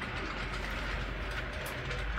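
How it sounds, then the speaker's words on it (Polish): A Piko H0 scale model train runs on a home layout, giving a steady, faint rolling rumble with soft rail clicks, heard alone without speech. "Więc pociąg niech sobie jeździ w tle."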